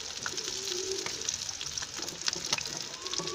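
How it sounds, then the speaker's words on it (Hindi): Dola fish frying in oil in a pan, with a steady, close bubbling sizzle and occasional sharp crackles and pops running throughout, moderately loud and without any talk. "मछली को हमने 7 से 8 मिनट फ्राई किया है।"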